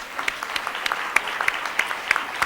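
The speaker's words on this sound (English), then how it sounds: "Let's have one more round of applause for Dave Lawrence." A lecture audience applauds at the close of a leadership lecture, with a steady patter of distinct claps over a soft wash of crowd noise, moderately distant.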